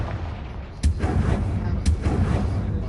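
Confringo blasting spell going off in a Harry Potter-style video game, two sharp explosive bursts about a second apart over a steady low rumble of game sound.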